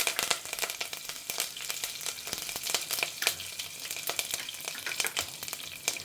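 Curry leaves sizzle and crackle in hot oil with a dense, steady frying hiss full of sharp pops. It sounds close and carries on without a break, with no talking.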